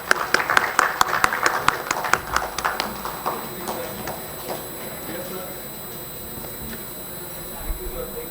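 Scattered clapping from an audience at an award ceremony during a stock-market technology exhibition, loudest at the start and thinning out within a few seconds to near quiet.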